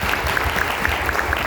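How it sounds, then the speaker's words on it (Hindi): A crowd at a business gathering applauds loudly, a dense and even wash of many hands clapping at close range with no voices over it. "मैं चाहूँगा एक बार तालियां जोरदार हो जाएंगी।"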